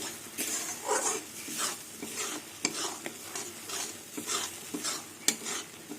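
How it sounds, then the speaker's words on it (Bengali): Lentil dal posto being stirred in a cooking pot, a steady scraping rhythm of a spoon against metal with a soft sizzle underneath, close and continuous with no talking. "ডালটা অনবরত নাড়তে হবে নাহলে নিচে লেগে ধরবে"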